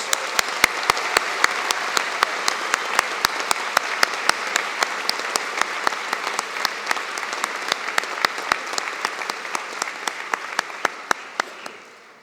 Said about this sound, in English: Let's have another round of applause for our Student Award winners.